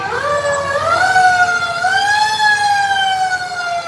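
An old fire engine's siren wails loudly nearby as it passes during a Halloween parade in Nyack, its pitch rising and sustained in a long continuous tone over engine rumble.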